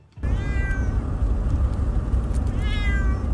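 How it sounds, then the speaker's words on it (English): A cat that has been trapped inside a trailer for a week and a half meows loudly and close by, two drawn-out cries over a steady rumbling background. "Cat that's been trapped inside of a trailer for a week and a half already."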